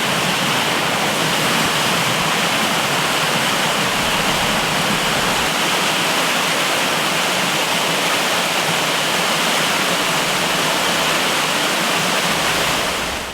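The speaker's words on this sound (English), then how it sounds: "I've counted 1, 2, 3, 4, 5 waterfalls." Waterfalls in the Lesotho highlands pour as a dense, unbroken roar of rushing water, loud and steady throughout with no voices.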